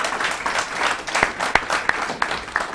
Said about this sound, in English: guys, clap for this lady.